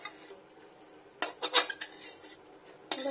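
Veg paneer being poured and scraped out of a metal frying pan: clinking metal scrapes and knocks in short bursts, fairly close and moderately loud, with a quiet gap between, no voices.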